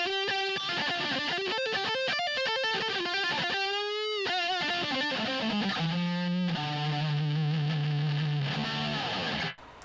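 An Epiphone SG Modern 2020 electric guitar with its pickup phase switch engaged plays a short phrase through a thin, nasal, phasey tone with distortion, single notes and bends ringing out before stopping abruptly.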